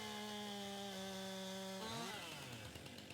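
A chainsaw cuts down a tree in the farming video game Farming Simulator 19, a steady high engine whine that bogs and drops in pitch as the cut finishes, close and alone with no voices.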